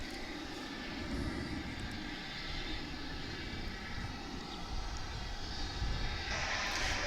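A McDonnell Douglas MD-11 at DFW airport produces a steady, broad engine roar that fills the clip at a moderate distance and swells slightly louder toward the end, with no talking.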